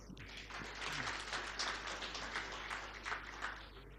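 Applause at a rice exporters' summit in a Hyderabad hotel ballroom, steady clapping from an audience lasting several seconds at moderate distance, without speech over it.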